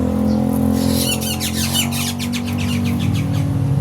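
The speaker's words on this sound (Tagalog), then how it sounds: "ang ingay ng ibon" A bird calls loudly in a garden, a rapid series of sharp chirps repeating over steady background hum, close and prominent with no talking.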